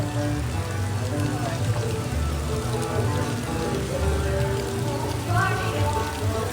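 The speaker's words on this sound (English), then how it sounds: "Loving this rainy weather, huh?" Steady rain pours outdoors at the Dollywood theme park during its Flower & Food Festival, a dense, continuous patter on surfaces that stays even throughout, with faint voices in the background.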